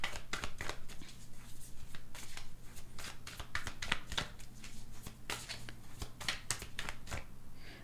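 Tarot cards are shuffled and drawn in a quick, papery run of riffles and flicks, close and fairly soft, repeating through the whole stretch without talk.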